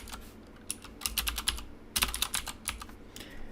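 Quiet, rapid typing on a computer keyboard, two bursts of brisk keystrokes separated by a short pause, close and alone with no talk.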